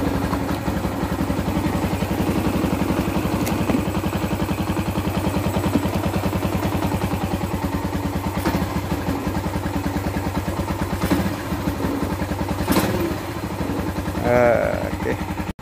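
A Yamaha LC135 5-speed motorcycle engine with a 28mm NSR carburetor idles steadily with a fast, even putter, close by, running continuously with a brief rev near the end.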